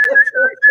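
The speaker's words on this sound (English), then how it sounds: "I'm whistling house music in the shower" A person whistling a short house-music tune in the shower, a bright close melodic whistle with quick pitch shifts, loud and alone over less than a second.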